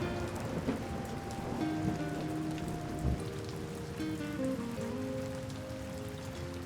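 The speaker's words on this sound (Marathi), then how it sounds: "तिने एकदा त्या बरसणाऱ्या पावसाकडे पाहिलं" Steady rain pours onto a surface, a dense continuous patter with scattered drops, some faint tonal sounds drifting underneath.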